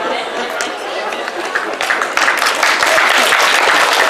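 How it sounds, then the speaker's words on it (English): Audience applause and cheering at a live panel event, a broad wash of clapping that grows louder and busier toward the end, with crowd chatter mixed in. "Sinister applause."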